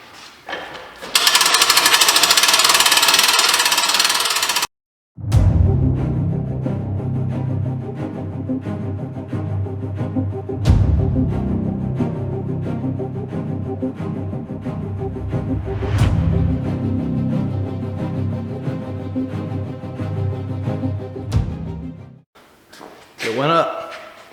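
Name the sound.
winch lifting auction-find container at all four corners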